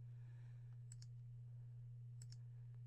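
A computer mouse gives two quick pairs of soft, crisp clicks a second apart, close but faint over a steady electrical hum.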